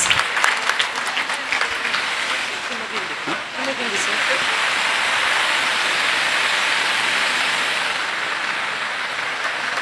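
An audience claps after a dance performance at an event, with warm sustained applause filling the space following a short spoken moment at the start, then slowly easing off.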